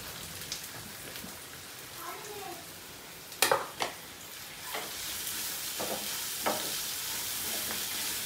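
Onions frying in a pan for a veg momo filling give off a steady, even sizzle, with a few sharp clatters of stirring near the middle.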